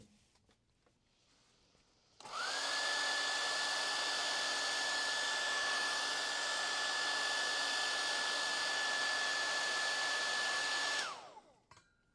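A hair dryer switches on, blows steadily for about nine seconds drying paint on a painted piece, then cuts off; a constant close whine and rushing air with faint room sound before and after.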